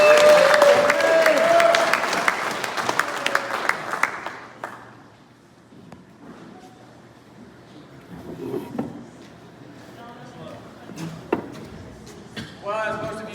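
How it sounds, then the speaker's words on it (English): A banquet crowd at a racing awards night claps for the sixth-place modified driver, a loud burst that fades out after about four seconds, leaving a quieter room with a few scattered sounds. "Give a round of applause to number 18C,"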